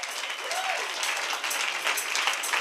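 An audience breaks into sustained applause, a dense, even wash of clapping that holds steady at moderate loudness for the whole stretch with no talking over it.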